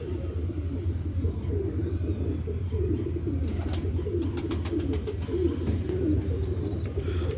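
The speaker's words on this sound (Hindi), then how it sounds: "दूसरा ये कैंठे वाला कबूतर है" Fancy pigeons coo softly in low, throaty murmurs close by, with a steady rumbling background and a few faint clicks partway through.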